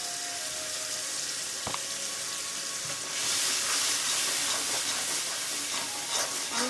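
Chili, turmeric and coriander powder paste frying in a pan, soft scraping stirs over a steady sizzle that grows louder and brighter partway through, close by with no talking.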